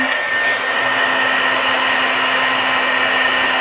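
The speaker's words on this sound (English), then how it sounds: "and I got my heat tool." A heat tool for embossing white powder blows a steady, loud whirring hum with a constant tonal drone, running continuously without pause and alone, with no talk.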